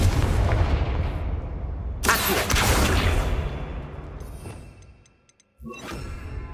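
Confringo fire-blast spell cast in Hogwarts Legacy, a loud sustained rumbling roar with a sharp burst around the middle, fading out to near silence before a new whooshing effect starts.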